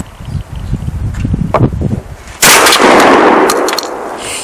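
A shotgun fires Fetter Hunting Cartridges shells: one sharp, loud blast with a long ringing decay outdoors, after a stretch of low rustling and handling noise.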